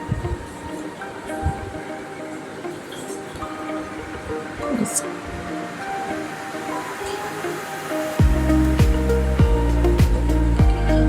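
Busy railway station with trains, crowd murmur and talk throughout; midway a loud low rumble of a train arriving or idling rises and continues, with rhythmic clanks and horn-like tones near the end.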